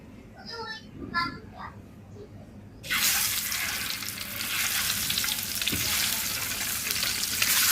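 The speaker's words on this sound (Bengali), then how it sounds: "এরপর ডিমটা ভেজে নিব" Eggs hitting hot oil in a pan, used for an egg bhuna, set off a loud, steady frying sizzle that holds to the end, after a few soft kitchen clinks.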